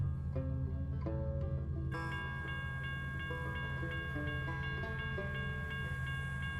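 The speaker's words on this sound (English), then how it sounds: "Of course, there's a train coming." A train passes in the Truck World video game, set in the Australian outback, a steady rumbling rail roll with sustained horn-like tones layered over a constant low engine drone.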